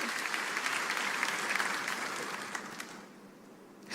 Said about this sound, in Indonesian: Kita tepuk tangan yang paling meriah bagi Yesus Kristus Tuhan kita